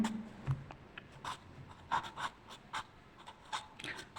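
Faint pen strokes on paper while working a maths problem, short scratchy bursts of writing separated by pauses, quiet and close with no talking.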